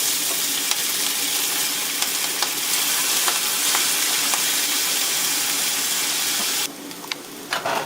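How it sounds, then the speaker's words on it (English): Noodles fry in peanut oil in a pan over medium-high heat, a steady dense sizzle holding loud and close the whole way, with a few stirring scrapes. The sizzle thins briefly near the end. "Preheat a pan at medium to high heat and add 5 to 6 tablespoons of cooking oil"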